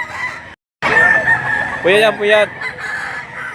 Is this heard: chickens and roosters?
yes